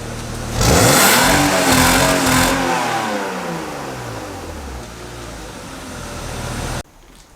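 A BMW E36's engine revs hard and loud close by, then the pitch sweeps down slowly as the revs fall, idling for a few seconds before it cuts off abruptly.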